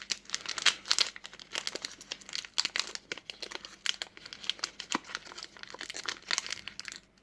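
A Pokémon card booster pack wrapper is torn open, with close, quiet crinkling and tearing of foil plastic in irregular bursts over several seconds.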